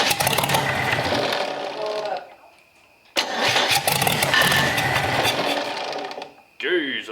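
A Chevy 250 straight-six cranks and fires into loud running bursts, dropping off briefly before catching again and revving, then cutting out near the end.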